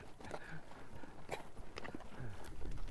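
Horses walking up an incline at a ranch in Baja, with irregular clip-clop hoof strikes on the ground, fairly close, while people talk over the steps.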